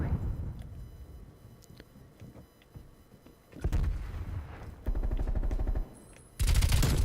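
MP5 submachine gun fire in the video game Black Ops Cold War, sustained rapid bursts of automatic shots with short pauses and quieter game noise between them.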